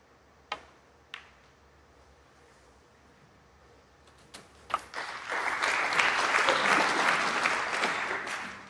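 Audience applause breaks out at a snooker match between Mark Selby and Jack Lisowski at the 2023 British Open, rising after a few sharp clicks into a sustained, fairly loud round of clapping.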